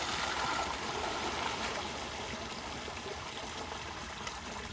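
Steady running water rushes and trickles continuously as sweet potatoes are washed the day before boxing on a farm, a moderate, even wash with no voices.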